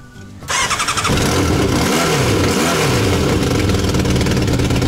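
An old moped first registered in 1988 starts up and runs loud and close, its rough, sputtering engine settling into a steady buzzing idle with a few small revs.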